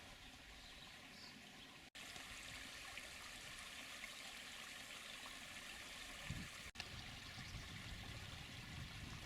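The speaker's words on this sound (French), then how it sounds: "Le ruisseau de Folbach glougloute sous cette belle petite passerelle." Steady gurgling of a small brook flowing under a small footbridge in Rodemack, Moselle, a continuous broadband water rush with no voices, close and fairly even throughout.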